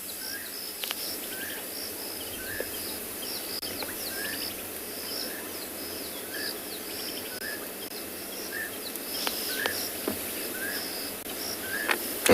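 Repeated calls of a Llewellyn's cuckoo ring out at a steady pace over a constant bed of insect chirring on a sunset safari, distant and moderately faint, with no voices.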